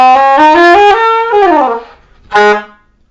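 Cannonball Black Nickel silver-plated soprano saxophone played in its low register, a short run of descending tones followed by a pause and one more brief note, close and solo.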